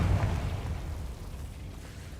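A Confringo fire spell explosion in the video game Hogwarts Legacy, a single loud, rumbling fiery blast that decays into a crackling roar across the whole clip.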